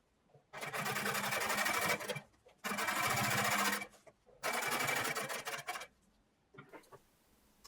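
Sewing machine stitching denim jeans while joining the front and back pieces, three long motor-driven runs of rapid stitching separated by short pauses, close and clear.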